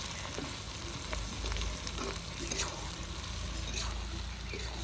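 Onions frying in a pan for a mutton curry, a moderate, steady close sizzle with occasional soft stirring scrapes and faint crackles.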